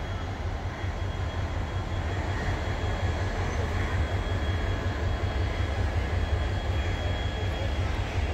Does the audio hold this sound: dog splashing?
no